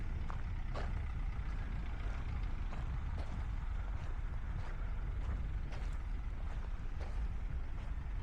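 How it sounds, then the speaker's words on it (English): Heavy outdoor rumble of a tractor engine hauling a boat out of the water in Spain, mixed with wind buffeting and water noise, steady throughout. "And there's a boat getting brought out of the water."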